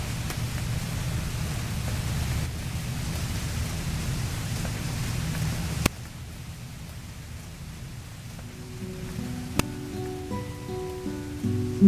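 Steady rain falls outdoors around a tree on grass, a continuous soft hiss with low rumble, later quieter, with a couple of sharp clicks and faint tonal sounds near the end.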